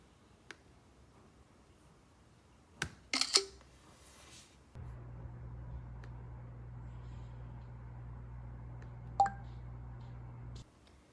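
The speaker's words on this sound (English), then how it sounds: "Apple also changed the screenshot sound" A soft macOS Big Sur screenshot camera-shutter click sounds once amid a few faint clicks, followed by a low steady hum; quiet and close.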